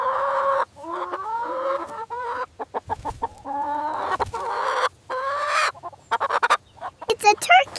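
A chicken clucks in a steady run of loud, close, choppy calls broken by short pauses, with a few sharper squawks toward the end.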